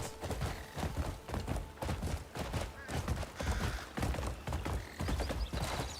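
Horse hooves clip-clop in a steady galloping rhythm in the video game Crimson Desert, loud and close, with a whinny mixed in among the repeated thuds.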